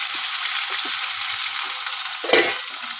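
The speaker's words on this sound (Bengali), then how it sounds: "আলুটা আমি একটু ভাজা ভাজা করে নেব।" A large cut potato fries in hot oil in a pan with cumin, dried chili and bay leaf, giving a constant close sizzle with a few soft stirring knocks and one louder scrape.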